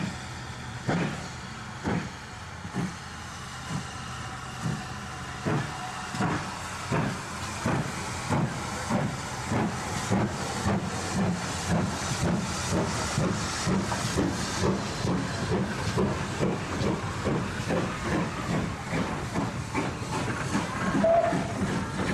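A Great Western Railway steam locomotive in G.W.R. livery hisses steam for a long stretch, with rhythmic chuffing bursts building in pace and a brief whistle-like tone near the end.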